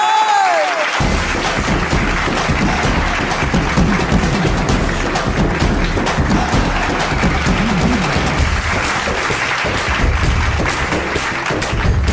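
A crowd applauds as the new woman panchayat president of Shivapura is called onto the stage: a steady, dense wash of clapping that swells in after a brief quiet start and carries on loudly without a break.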